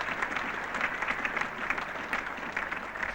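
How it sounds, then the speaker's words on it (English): Spectators at Lord's applaud a batsman reaching fifty during the 1977 England versus Australia Test, a moderate, continuous patter of crowd clapping heard at some distance, rising and falling slightly. "Applause then for Tony Greig, going through to 52."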